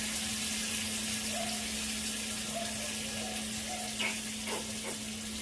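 Salsa and tomato purée sizzle and fry in a pan, a steady soft crackle with a low hum beneath and a few brief stirring or clinking sounds toward the end.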